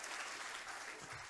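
Audience at a Hindi poetry recital held at a university claps in a quiet, brief burst of applause heard from a distance.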